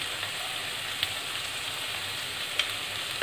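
Sliced onions with a pinch of salt sautéing in a pan give a steady, even sizzle with a faint crackle, close and unbroken, with a couple of light clicks of a spoon.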